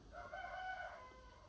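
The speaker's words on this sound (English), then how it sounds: "Your next door's cockerel" A neighbour's rooster crows once, faint and distant, over a low steady background hum.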